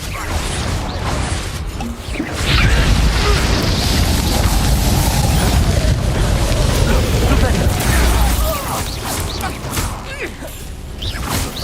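Confringo blasting spell in the game Hogwarts Legacy: a loud, sustained roaring burst of explosive rumble and debris that swells after a short lead-in and fades, with voices and combat effects mixed in.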